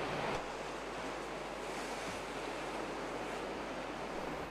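Ocean waves on the Pilbara coast of Australia give a steady, faint wash of surf blended with wind noise, continuous and without talk.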